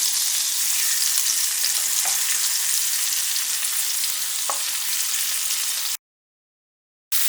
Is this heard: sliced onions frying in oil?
yes